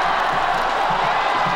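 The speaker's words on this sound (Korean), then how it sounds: "그렇게 홈팬들의 함성소리는 높아만 갔다" Home football fans roar steadily at a 1998 Korean K-League playoff match in Ulsan, a dense, continuous crowd din with no breaks, loud and diffuse like a packed stadium heard from within.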